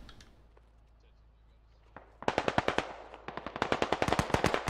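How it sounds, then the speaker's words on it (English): Automatic gunfire in the military shooter Squad comes in rapid, loud bursts from nearby, following a quieter start with one early shot. The bursts continue in rhythmic volleys to the end. "There's someone shooting me. I don't know where. I heard the bullets."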